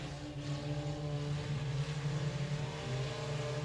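A field of 4-cylinder race cars runs a heat race on the 67 Speedway of Texarkana dirt track, with a droning, humming engine note that wavers as the cars lap at a moderate distance.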